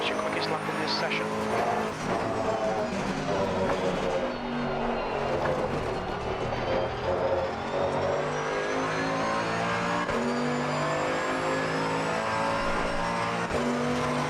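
A Mercedes GT2 race car in Assetto Corsa Competizione roars through gear changes at high revs, the engine note rising and falling steadily around a track, with someone talking over the engine.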